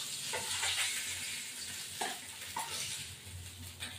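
Fish fries in oil in a pan with a soft, quiet crackle and a few brief clinks and stirring scrapes breaking through the low sizzle.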